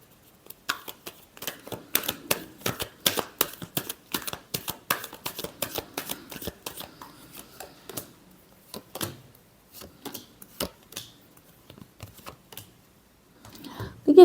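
Tarot cards are shuffled by hand in a quick series of crisp, close riffling clicks. The clicks come dense at first, then thin into scattered snaps. There are short pauses, and one louder knock comes at the end.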